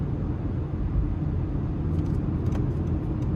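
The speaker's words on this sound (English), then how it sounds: "having that naturally aspirated 4-cylinder paired with the continuously variable transmission. This feels a lot peppier" Honda HR-V LX, a naturally aspirated 2.0-liter four-cylinder with a CVT, accelerating on the road, heard from inside the cabin as a steady low engine drone and road rumble with no talking.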